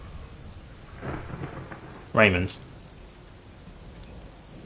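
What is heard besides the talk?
storm with rain and thunder, from video game Shadowrun Hong Kong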